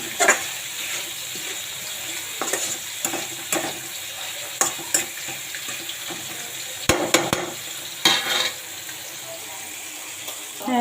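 Taro-green flowers frying with shrimp in a home kitchen pan: a steady sizzle broken by repeated sharp scrapes and stirring knocks, with a faint voice now and then.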